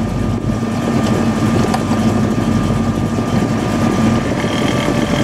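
A GM one-wire 100-amp alternator under load on a car engine idling steadily, a continuous close mechanical drone with a faint whine layered over it, running unbroken throughout.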